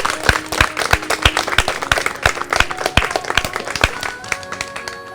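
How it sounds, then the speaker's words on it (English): A group applauds at a street aerobics session, with sharp individual claps in an uneven, lively rhythm, close and fairly loud, with faint background tones underneath. "A big round of applause for you guys."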